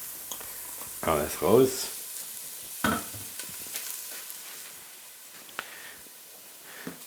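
Onions sweat in a pan for Polish żurek soup. A soft, low sizzle is punctuated by a few clattering stirs and pan knocks, with a brief spoken phrase.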